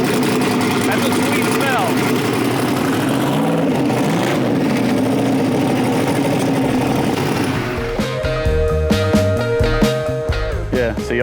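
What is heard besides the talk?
1970 Dodge Charger engine starting and revving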